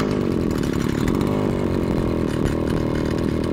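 The small two-stroke engine of a Holzfforma FP226B pole saw runs loudly and close up, a continuous buzzing drone that holds steady throughout.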